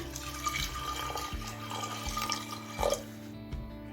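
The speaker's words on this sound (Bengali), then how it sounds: "সবশেষে দিচ্ছি পরিমাণ মতো জল" Water runs steadily into a cooking pot, a continuous close splashing and trickling pour that is moderately loud, with no voices.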